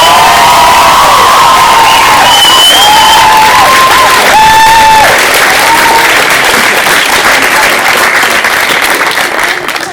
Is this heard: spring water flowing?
no